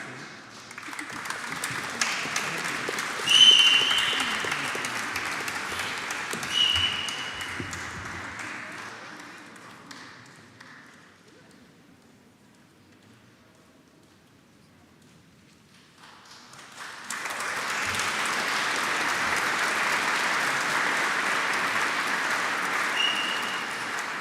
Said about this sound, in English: It's always nice being last in line because you get that extra applause as well